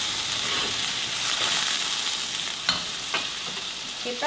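Vegetables and goose innards with spring onion stir-fried in plenty of cooking oil, a constant loud sizzle with occasional scraping clinks of a spatula against the pan near the end.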